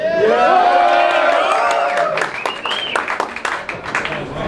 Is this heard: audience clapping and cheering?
yes